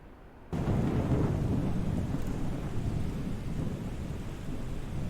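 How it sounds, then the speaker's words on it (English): Heavy rain and rumbling thunder in Microsoft Flight Simulator over Key West: a loud, dense, continuous roar of rain with deep thunder rolling underneath, starting abruptly and holding steady without any talk. "And here's what Key West looks like in heavy rain."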